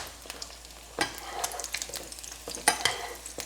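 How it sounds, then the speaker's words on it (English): Bacon grease spooned over cooking brisket and duck egg, a soft crackling sizzle broken by sharp scraping and tapping of the spoon against the pan, close and fairly quiet. "Bacon grease basting."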